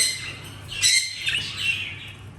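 Pet budgerigars chirp and tweet in short bright bursts, fairly close, over a low steady background hum.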